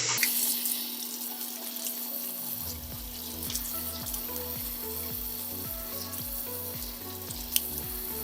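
A Barbasol rechargeable rotary shaver rinsed under a running tap, with a steady close rush of water splashing over it and the shaver's motor hum running beneath.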